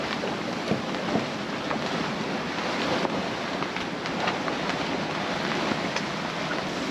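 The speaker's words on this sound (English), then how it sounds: "Okay, here comes the wind." Strong wind roars steadily over a sailboat at sea ahead of a squall, with wave wash and buffeting microphone noise forming a loud, unbroken rush.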